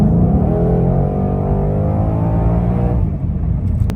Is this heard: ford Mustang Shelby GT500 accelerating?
yes